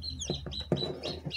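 Newly hatching chicks on day 22 of incubation peep inside a homemade box incubator: a few quick, thin, high chirps, quiet and close, with no talking.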